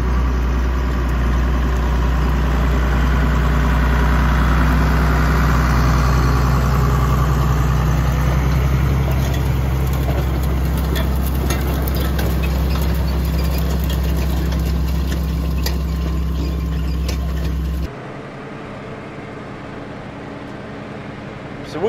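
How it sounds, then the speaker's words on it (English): A Deutz-Allis 7110 tractor hitched to a Deutz-Allis 385 air planter idles with a steady, loud diesel rumble heard from the cab, running unchanged for a long stretch before the sound cuts to quieter near the end. "So we are in the Deutz-Allis 7110 with our Deutz-Allis 385 planter."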